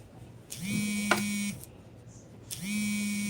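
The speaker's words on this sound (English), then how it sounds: "Something is beeping." Two long electronic buzzing beeps sound about two seconds apart, close and steady, each lasting roughly a second, with a brief click between them.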